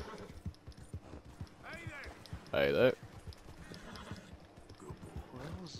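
In the video game Red Dead Redemption 2, horse hooves clop in a steady rhythm while a sharp, loud whinny cuts in near the middle, with someone talking over the sounds.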